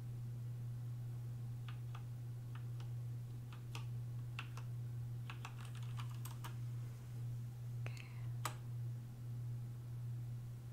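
Slow, unhurried typing on a computer keyboard, scattered individual keystrokes at uneven intervals, soft and close over a steady low electrical hum, with no talking.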